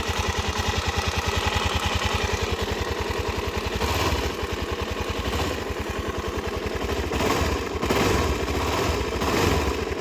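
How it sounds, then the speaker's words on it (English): Suzuki DRZ 400 SM motorcycle engine at normal idle, a steady rapid thumping putter close by, loud and even throughout with no voices. "Alright, let's push the choke back. So this is the normal idle."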